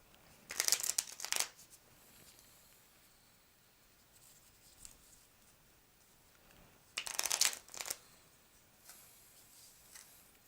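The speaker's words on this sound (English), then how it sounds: "And then I will shuffle the deck that I looked at." Two short bursts of crisp riffling as a deck of cards from the Marvel Villainous board game is shuffled, separated by several seconds of quiet with faint handling noises.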